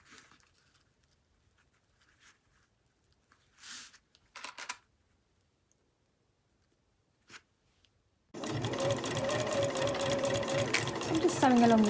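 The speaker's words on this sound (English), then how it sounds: "I'm just sewing along the crease line there and making sure that these raw edges match up at the top" A sewing machine stitches binding onto netting along a crease, starting after a few quiet handling noises and then running steadily and close for several seconds.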